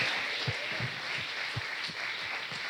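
Congregation applauding at a Brazilian evangelical church service in Rio de Janeiro, a sustained wash of many hands clapping with a few sharper low thumps standing out.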